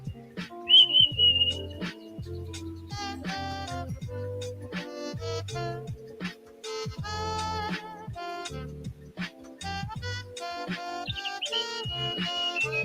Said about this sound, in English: I'm going to turn it back up a little so I can make sure you hear those birds.